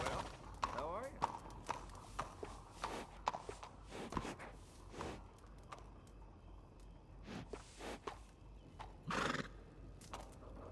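In the Western video game Red Dead, horses clip-clop along with sharp rhythmic hoof strikes and one whinnies loudly partway through, set against quiet ambience.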